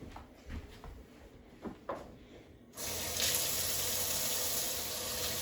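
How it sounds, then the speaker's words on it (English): Hot tap water gushes steadily into a kitchen sink for hand washing, starting abruptly after a few soft handling knocks and continuing loud and close to the end. "We're going to start off with, of course, washing hands."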